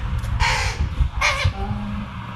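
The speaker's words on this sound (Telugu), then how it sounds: "మా కాకులకైతే అన్నం పెడుతున్నా నేను." Crows being fed rice give two harsh, loud caws close by, each short and rasping, over a low background rumble.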